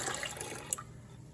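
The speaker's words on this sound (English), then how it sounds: "now I'm going to add another cup of lukewarm water" Lukewarm water poured into a mixing bowl for focaccia dough, a short, fairly quiet splashy pour with one brief brighter splash near the middle.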